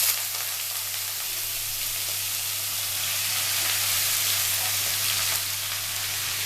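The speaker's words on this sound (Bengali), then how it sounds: "এই পেঁয়াজগুলো ছেড়ে দেবো।" Sliced onions dropped into hot mustard oil with spluttering mustard seeds for Bengali posto, giving a loud, steady, close sizzle that hisses on without a break and with no voices.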